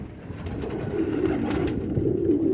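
Pigeons coo in a loft, low overlapping throaty calls repeating steadily and fairly close, with light fluttering and rustling mixed in and no talk.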